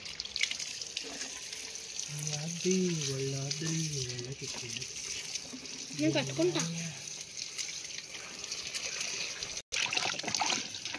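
Tap water runs steadily while freshly harvested mango ginger roots are washed outdoors, a constant splashing hiss under nearby voices talking.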